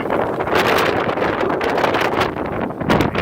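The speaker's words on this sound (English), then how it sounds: "Just a gust here and there." A strong wind gust during Hurricane Matthew in Central Florida roars steadily and loudly across the microphone for several seconds, with rustling and buffeting throughout.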